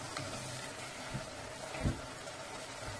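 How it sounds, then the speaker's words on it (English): Shiitake mushrooms fry in a soup pot while white wine is added to deglaze, giving a soft, steady sizzle with a couple of brief stirring knocks against the pot, quiet and with no voices. "So now that my mushrooms are fried off and bubbling away, I'm going to deglaze with the white wine"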